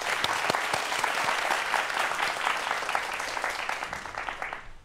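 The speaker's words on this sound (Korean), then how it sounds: "박수 부탁드리겠습니다" An audience applauds at a robotics lecture, dense clapping from a hall crowd that holds steady and then gradually fades away.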